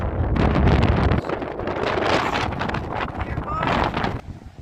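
Strong wind gusting across the beach at Ramsgate, rumbling hard against the microphone in loud, uneven bursts close up, with no talk.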